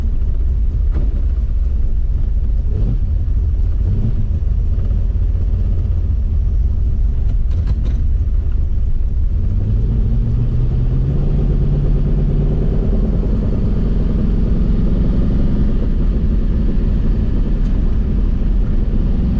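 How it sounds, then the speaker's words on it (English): A car fitted with a Holley Sniper EFI runs steadily with an exhaust leak from a warped flange, giving a loud continuous low rumble; the engine note rises in pitch partway through. "You can hear the exhaust leak on this side."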